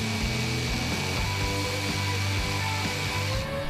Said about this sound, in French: La découpe se réalise avec une scie sauteuse.